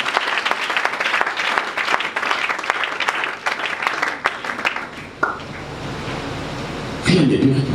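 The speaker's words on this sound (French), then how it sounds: "Acclamons très fort pour le Seigneur." A church congregation breaks into loud, sustained applause and cheering during worship, a dense wash of clapping that fades after several seconds, then a brief swell of voices near the end.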